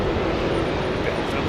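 KLM Boeing 747 engines spooling up for takeoff at Heathrow, a loud, steady, dense roar heard from inside the aircraft.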